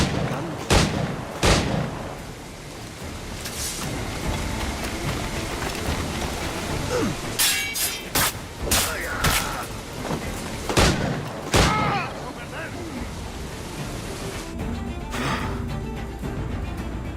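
Gunfire in the pirate game Assassin's Creed Black Flag: sharp loud shots and booming blasts in irregular bursts over a constant rain-like wash of background noise.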